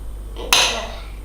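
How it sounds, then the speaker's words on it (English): A knife chops through butter on a board with a single firm thud-like knock, close and brief, over a low steady hum. "I'm just going to chop, chop, chop my butter"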